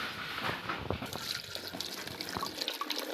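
Tap water runs and splashes while fresh vegetables such as coriander are washed in a home kitchen, with soft trickling and scattered drips at a low, steady level.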